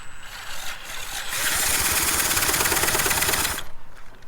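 A drill cranks the engine of a 1974 Vespa Piaggio Ciao moped for a compression check, giving a fast, even whirring chug that builds up and runs for about two seconds before stopping.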